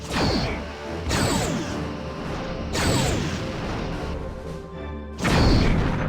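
Torpedoes striking a ship in the space combat game Star Trek Bridge Commander: four loud, heavy crashing impacts at uneven intervals, each followed by a rumbling, whooshing decay, with no talking.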